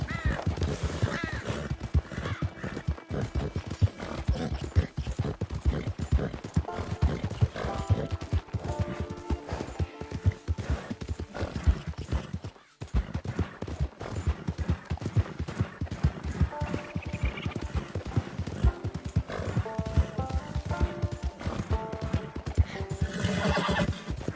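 Horse neighing and whinnying with hooves clip-clopping in a PS4 video game, the game audio dense and steady throughout with repeated whinnies over continuous hoofbeats and background game sound.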